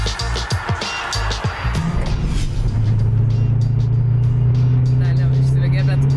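Dodge Challenger SRT Hellcat, a 717-horsepower car, pulling away hard with a deep engine note that climbs steadily in pitch and loudness as it accelerates, heard from inside the cabin after some opening noise.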